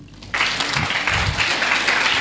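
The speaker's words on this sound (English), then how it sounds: "Okay, clap heartily." Workshop audience bursts into hearty applause after a quiet moment, many hands clapping loudly and densely, sustained and close.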